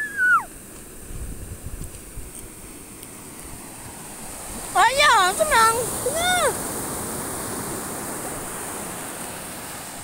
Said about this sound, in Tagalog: Lalaki ng alon, guys.